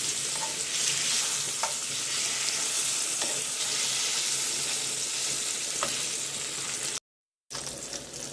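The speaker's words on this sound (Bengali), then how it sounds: "কই মাছটা ভাজা হয়ে গেছে," Koi fish frying in hot oil gives a dense, even sizzle with a few faint clicks, close and continuous, with a brief cut near the end.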